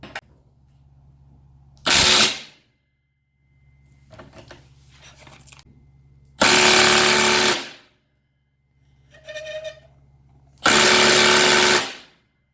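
Milwaukee M18 FID2 impact driver set to mode 3 for a torque test, firing in three loud, close bursts of about a second each, separated by quieter whirring and pauses.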